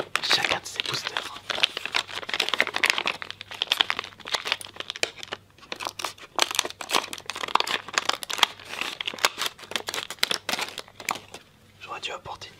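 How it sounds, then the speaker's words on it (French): Close crinkling and tearing of Yu-Gi-Oh trading card booster pack foil wrappers, steady rustling handling throughout with a quiet voice talking underneath. "Et on va ouvrir chacun de ces boosters."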